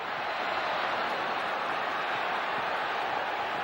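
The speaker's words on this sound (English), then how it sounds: "Crowd starting to come back to life now" A stadium crowd roars in a steady, broad wash of noise at a 1993 rugby league semi final between Canberra and Brisbane, sustained and dense without distinct individual voices.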